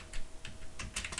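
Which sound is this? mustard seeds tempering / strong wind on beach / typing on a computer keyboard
typing on a computer keyboard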